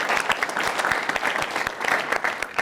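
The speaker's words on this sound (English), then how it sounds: "Let's give Erin and her team from Lead Scholars just a round of applause for putting this together." An audience at a campus fireside chat claps in a dense, steady round of applause, loud and continuous throughout without any talk over it.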